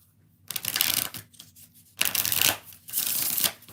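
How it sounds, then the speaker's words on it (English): Tarot cards being shuffled by hand in three brisk bursts of papery riffling, close and clear, with short pauses between them. "3 more shuffles."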